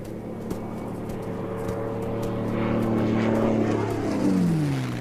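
A propeller airplane drones low over the vast Australian desert, its steady engine hum swelling louder as it approaches and its pitch sliding downward as it passes, with no voices.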